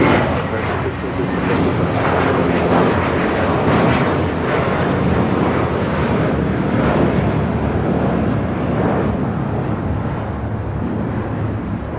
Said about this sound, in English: Turkish Dreamliner now rolling down at 24 left.